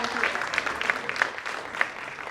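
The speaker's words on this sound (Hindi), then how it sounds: "डॉक्टर नजमा हिप्तुल्लाह जी का एक बार जोरदार तालियों के साथ स्वागत होगा" Enthusiastic audience applause welcoming Dr. Najma Heptulla at a Bharat Nirman NGO event: a dense, steady wash of many hands clapping together, with a few sharper claps standing out, lasting a couple of seconds.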